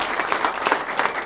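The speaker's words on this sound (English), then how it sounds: "Let's give these two gentlemen a round of applause." An audience at an evening community program applauds, a dense, steady burst of clapping from many hands filling the room without pause.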